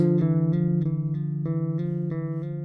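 Plucked bass guitar double stops ring together over a sustained low tone, struck repeatedly in a loose steady rhythm.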